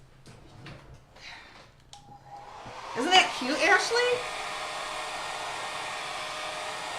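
A blow dryer switches on partway through and then whooshes steadily and loudly at close range to dry a chalk transfer. Some brief handling knocks and a short spoken line come before it starts.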